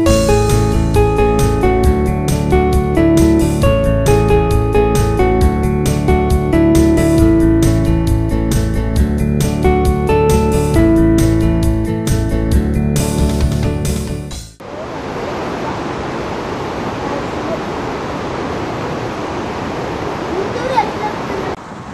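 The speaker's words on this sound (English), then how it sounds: "Kadambi fall is another waterfall in Kudremukh National Park area." Kadambi waterfall in Kudremukh National Park gives a steady, full rushing roar of falling water. It follows a stretch of loud music and continues unbroken to the end.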